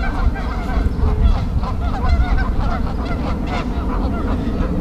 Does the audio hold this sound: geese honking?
yes